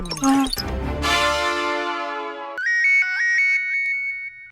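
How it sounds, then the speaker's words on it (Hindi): An electronic phone ringtone plays a bright, repeating melodic pattern, loud and close, after a short burst of other music. "अरे जेठालाल का फोन"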